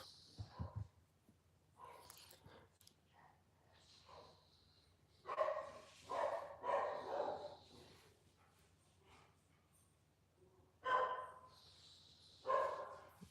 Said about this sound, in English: I'm sure people can hear him even with the door closed because that his bark is that loud